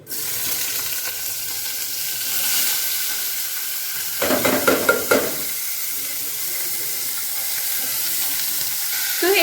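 Cumin and onion frying in hot oil for soup-style Maggi noodles, a loud continuous sizzle with a burst of crackling and stirring midway, then settling back into a steady hiss.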